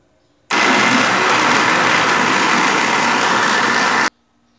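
Blender mixing a white bean cake batter, a loud steady whirring roar that starts abruptly, runs for about three and a half seconds, then cuts off into near silence.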